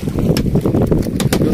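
Strong typhoon wind gusting at the shore, a steady roaring rush with low rumble and brief buffeting bursts, loud and close throughout, with no talk.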